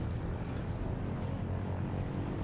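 A PZL Wilga light aircraft in Microsoft Flight Simulator drones steadily on a low approach during an eSTOL event, its engine and propeller giving a continuous broadband hum at a constant level.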